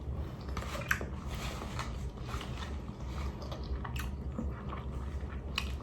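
Close, quiet chewing of a keto breakfast of egg, bacon and cheese, with irregular moist squishes and small crunchy bites repeating over several seconds, no talking.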